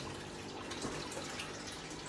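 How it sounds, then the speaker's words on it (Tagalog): Strong water gushes steadily from a pipe into a DIY aquarium overflow and sump, a dense continuous rushing sound close by with no pauses. "Lakas ng tubig oh."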